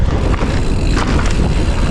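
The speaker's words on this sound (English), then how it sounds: "Oh, it's windy over here. The wind just picked up." Wind gusts buffet a rider on the coastal mountain bike trail at Montana de Oro, producing a loud, constant roar of blustery noise with no pauses.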